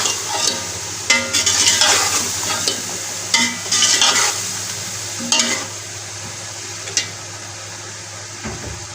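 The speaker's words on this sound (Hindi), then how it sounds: "और इन्हें थोड़ा सा भून लेंगे।" Potatoes and chickpeas stir-fry in a pan for achari pulao, with a constant sizzle beneath bursts of spatula scraping and stirring every second or so, close and loud with no talk.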